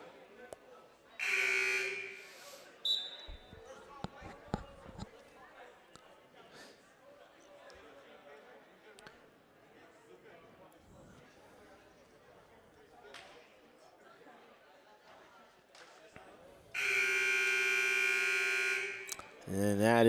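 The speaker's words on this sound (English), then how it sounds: "that is the 60-second timeout buzzer ringing there" A loud electronic buzzer sounds the 60-second timeout in a high school boys basketball gymnasium, blaring in two long bursts with crowd chatter and a commentator talking in between.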